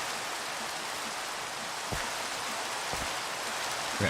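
Rain falls in Minecraft as a continuous, even hiss of drops on surfaces, steady and moderately loud throughout, with a couple of soft thumps and no talking.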